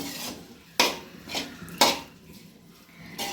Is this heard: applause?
no